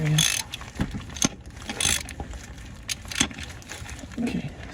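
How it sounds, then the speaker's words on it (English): A ratchet with a 14mm socket works the oil drain plug under a 2019 Nissan Versa, giving close, quick bursts of clicking in irregular strokes with brief pauses between them. "the first thing we're gonna do here is get our 14mm wrench socket"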